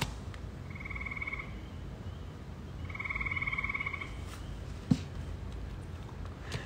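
Two bursts of rhythmic frog croaking ring out over a steady musical bed, each lasting about a second, with a sharp knock near the end.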